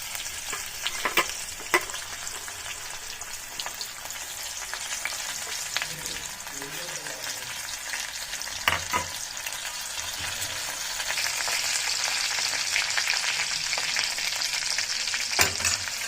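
Garlic and green chili frying in oil in a pan for a Marathi chickpea-leaf bhaji, a continuous crackling sizzle with occasional sharp spatula taps, growing slightly louder toward the end, no voices.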